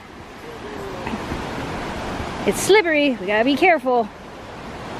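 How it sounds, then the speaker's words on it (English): Steady broadband rush of a canyon waterfall and river flowing nearby fills the background while a person speaks briefly over it. "Here's the next part of the waterfall."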